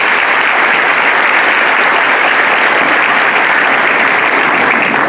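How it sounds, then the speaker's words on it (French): A packed hall at a Moroccan agronomy institute's salon applauds its elders and alumni with loud, dense, unbroken clapping that holds at full strength for the whole stretch, with no speech over it. "je voudrais sincèrement vous demander d'applaudir nos aînés et nos anciens"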